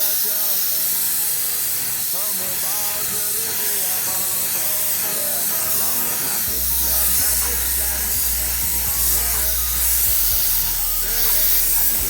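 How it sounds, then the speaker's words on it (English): Etch primer sprayed from an aerosol can onto car parts during a VL build gives a continuous loud, close hiss that lasts throughout, with a low rumble joining partway through. "I'll give that an etch prime just out of a can"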